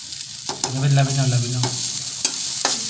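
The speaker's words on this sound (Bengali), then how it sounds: "তাহলে হয়ে গেছে না ফুলকপি ভাজা, এই যে ভাজা হয়ে গেছে।" Cauliflower frying in a pan, giving a steady close sizzle with scraping stir strokes, while a voice speaks briefly over the cooking.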